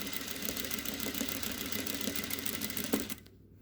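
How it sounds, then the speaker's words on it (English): A sewing machine runs steadily while stitching a contour dart in fabric, a continuous close mechanical whir that stops abruptly near the end, leaving quiet. "So you're actually taking a corner to stitch the rest of that dart"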